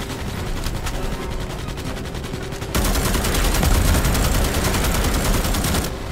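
Rapid automatic gunfire in the video game Starship Troopers Extermination while bugs attack a compound: a dense, unbroken stream of shots that grows louder and heavier halfway through.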